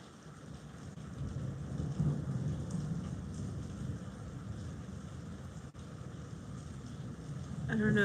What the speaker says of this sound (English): It's raining, it's thundering.